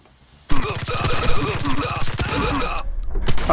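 Fast automatic gunfire in the XIII remake shooter, a loud rattling burst starting suddenly after a quiet moment and continuing in quick repeated shots, with a voice talking over it.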